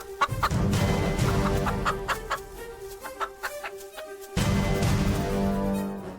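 A rooster intended for a ritual sacrifice clucks repeatedly and sharply, near and loud, over dense background music and rhythmic drumming at a village forest-goddess ceremony.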